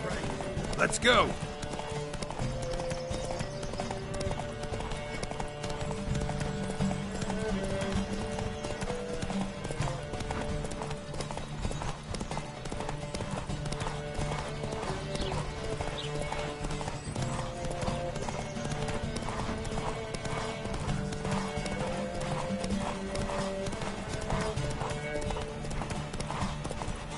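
Horses gallop steadily through a horse race in the video game Witcher 3, their hooves a constant, dense clip-clop throughout, with a short whinny near the start and faint voices now and then.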